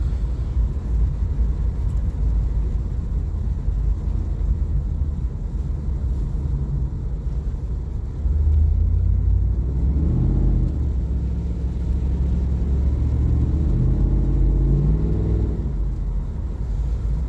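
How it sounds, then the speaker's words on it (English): A car engine idles with a low, steady rumble after an Optispark replacement, then swells louder and revs up a couple of times before settling, close by with no talking. "This thing runs way better."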